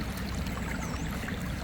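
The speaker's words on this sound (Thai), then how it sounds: "มีน้ำไหลนะน้ำไหลผ่านใจกลางหมู่บ้าน" A village stream runs through the middle of a rural settlement, giving a steady, close rushing and gurgling of flowing water with no break across the short stretch.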